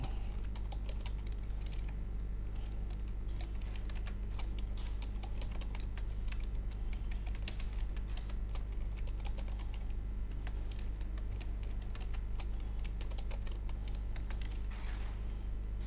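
Computer keyboard keys are pressed in a steady stream of quick, close clicks and taps, some rapid runs and occasional firmer strokes, over a low constant hum with no talking.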